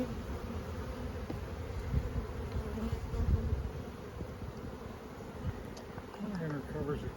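Honeybees buzzing steadily around open Langstroth hives during a full inspection, a dense continuous drone close by, with people talking faintly beneath it.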